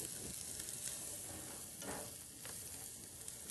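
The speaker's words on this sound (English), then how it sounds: "we're going to saute that a little bit. I like that margarine in there" Vegetables sautéing in margarine in a pan, a steady soft sizzle with a few light scrapes of a spatula or fork stirring them around, fairly faint throughout.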